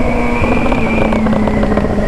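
A motorcycle engine roars steadily and loudly at high revs, with a sustained drone and faint crackles that may be exhaust pops, all heard up close without talk.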